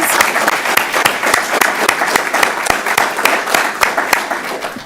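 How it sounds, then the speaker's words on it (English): An audience at a school district superintendent's citation ceremony gives student recipients a round of applause, a loud, steady wash of many hands clapping close by for the whole stretch. "Would you please at least give them a nice round of applause?"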